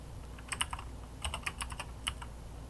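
Computer keyboard typing while entering HTML tags in a code editor: irregular bursts of close, crisp key clicks, several quick keystrokes in clusters with short pauses, no voice.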